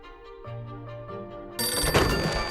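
A telephone rings in a comedy film scene, a bright repeating electronic ring with a steady tone that swells louder partway through as other sound joins in.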